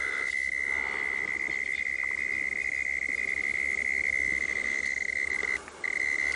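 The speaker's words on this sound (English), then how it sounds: "Also a frog that's making a bit of noise here, too." At a dam, a frog calls in a continuous high trill with a constant ring of insects and night ambience around it. A brief dip near the end interrupts the call.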